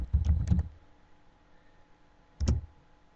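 Keystrokes typing a search query on a computer keyboard, a quick burst of clicks followed by a pause and one more short cluster of taps, near and fairly quiet.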